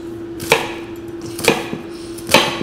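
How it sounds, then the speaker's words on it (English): A knife chops through an onion on a board in three sharp, well-spaced strokes close by, over a steady faint hum. "Apparently if you wet the knife when you chop an onion"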